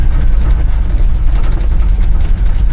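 An old Dodge W100 truck engine runs with a loud, steady low rumble and constant drone throughout, close and unbroken, with no one talking over it.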